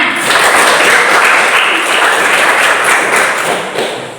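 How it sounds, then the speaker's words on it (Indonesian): A classroom group applauds together during a lesson, a dense, steady wash of many hands clapping that holds at full strength for several seconds before easing slightly at the end. "jadi tepuk tangan untuk semuanya"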